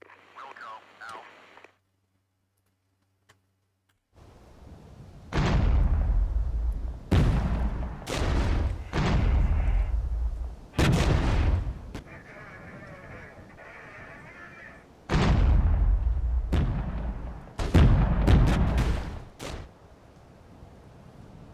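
Artillery fire in the strategy video game MicroProse Regiments, a series of loud booming volleys in irregular clusters with quiet gaps between, heard alone without talk.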